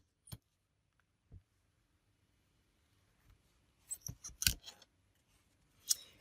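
Scissors snip out a stamped cardstock image: a few faint, sparse cuts with short clusters of crisp snips in a quiet room.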